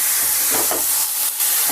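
Chutney ingredients fry in hot oil with a loud, steady hissing sizzle and faint crackles.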